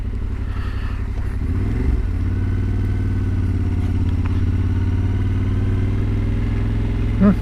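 A Yamaha Tenere 700 Rally motorcycle engine runs while riding, a steady close drone with a brief rise in revs early on, loud and continuous without talk.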